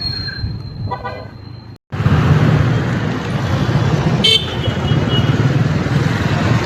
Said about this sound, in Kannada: ಬ್ಯಾಕ್ಗ್ರೌಂಡಲ್ಲಿ ತುಂಬ ನಾಯ್ಸ್ ಇದೆ, ವೆಹಿಕಲ್ ಸೌಂಡ್ಸ್ ಇರ್ಬೋದು, ಎಲ್ಲ ಸೌಂಡ್ಸು ಇದೆ.